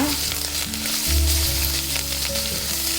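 Vegetables for Arabic mandi rice sizzle in hot oil while being stirred, a close, steady frying hiss with brief scraping bursts from the mixing, and no voices.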